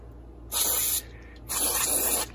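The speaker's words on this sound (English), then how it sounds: "take some electronic cleaner, which is non-corrosive, and we're going to just spray down in here" Electronic contact cleaner, non-corrosive, sprayed into a vintage Norelco Continental 101 tape recorder: two close, loud hissing bursts of about half a second and just under a second, separated by a brief pause.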